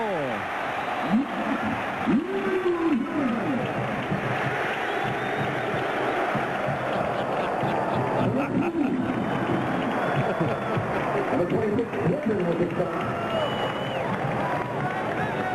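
A college football stadium crowd at the 2000 Wisconsin Badgers versus Minnesota Gophers game keeps up a steady, distant roar throughout, with a commentator talking over it.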